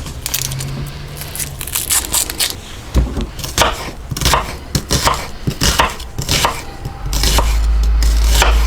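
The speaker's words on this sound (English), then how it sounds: "Cut about half of that onion up." A knife chops through half an onion on a board, sharp, close strikes landing in an irregular run with brief pauses, ending in a steady low hum.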